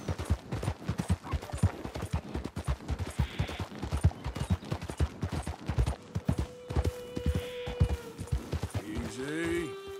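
Horse hooves gallop at a steady rapid rhythm in Red Dead Redemption 2, the clip-clop close and continuous, with a brief whinny and some game tones near the end.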